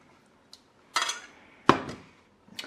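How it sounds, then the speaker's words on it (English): A ladle clinks against a pan and plate while onion gravy is poured over sausage and mash, giving a few close metallic knocks and scrapes with short pauses in between. "And then the gravy, I'm literally going to get 1 lovely ladle right on top"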